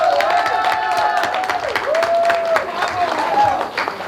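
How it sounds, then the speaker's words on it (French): An audience applauds and cheers for a performer taking the stage at a comedy show in Lyon, with steady broadband clapping throughout and a few voices calling out over the crowd noise. "Applaudissez-la."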